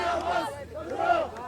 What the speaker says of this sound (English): There are still people out in the streets. They are cheering.